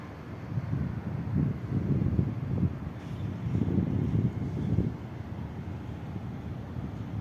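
Strong wind gusts roar across the microphone outdoors in hot weather, a low rumbling buffeting that swells in waves around two and four seconds, with no voices.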